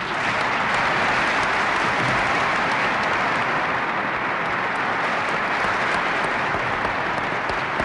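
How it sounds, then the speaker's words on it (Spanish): An audience applauds enthusiastically after a political speech in 1976 Spain, a dense, sustained wash of clapping that holds steady throughout without voices. "le aplaudieron con entusiasmo porque habló pues, de Franco"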